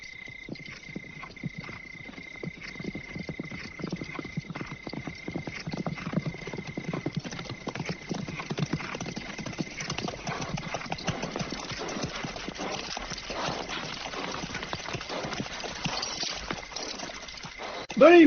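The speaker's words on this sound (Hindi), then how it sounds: "सैकड़ों घोड़े हैं" Hundreds of horses carry a large mounted army across open ground in a film scene, their hoofbeats merging into a dense, continuous clip-clop rumble with a faint steady tone beneath, loud and unbroken throughout.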